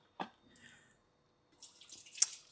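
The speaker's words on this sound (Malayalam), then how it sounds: "ആദ്യം കെറ്റിലൊന്ന് കഴുകിയേക്കാം അല്ലേ" Tap water running while a kettle is washed at a sink, with a short splash, a pause, then a second spell of running and dripping water, quiet and close.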